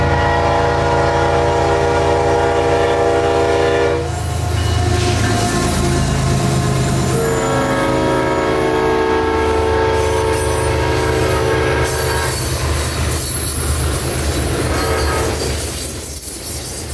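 A CSX freight train rumbles steadily past at close range at a gliding speed on grades, a loud continuous roll of wheels on rails with a drawn-out horn blast sounding over it.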